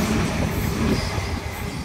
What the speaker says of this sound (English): We've got a train passing through here.